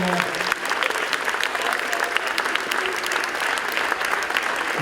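Dense, continuous applause from an audience at a school show in La Sablière fills the hall at steady loudness, with faint crowd murmur beneath the clapping throughout.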